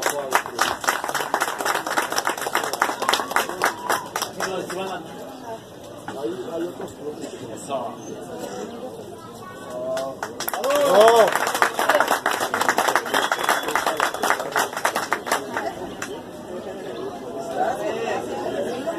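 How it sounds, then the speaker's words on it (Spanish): A crowd at an award ceremony for the winners of a Christmas charity race in Tonalá claps steadily and at length, with chatter and cheering woven through the applause and an announcer's voice at times. "Fuerte el aplauso para ellas."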